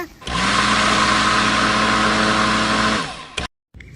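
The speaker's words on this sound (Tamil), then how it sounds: "ஊற வச்ச பாதாம் முந்திரி மிக்ஸி ஜாருக்குள்ள போட்டுக்கலாம்." A mixer grinder grinds soaked almonds and cashews, whirring loudly and steadily for about three seconds, then cuts off abruptly, followed by a brief clatter.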